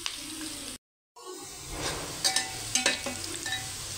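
Onions brown in a pan of hot oil for cumin rice, a steady close sizzle with a few clinks of stirring, briefly interrupted by a moment of silence.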